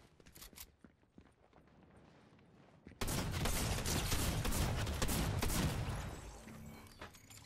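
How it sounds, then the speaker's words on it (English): Machine gun fire in Fortnite: a few scattered shots early on, then a loud, sustained automatic burst that keeps rattling for several seconds before tapering off, with footsteps mixed in. "I know he ain't pulled out a machine gun"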